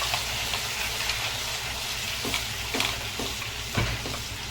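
Onion-coconut masala paste for Karli fish curry frying in a pan, a continuous loud sizzle with occasional scraping and stirring strokes.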